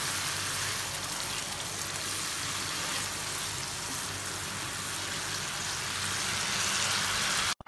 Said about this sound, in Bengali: সর্ষে বাটার সাথে মশলাগুলো আরো আমি কষিয়ে নিব।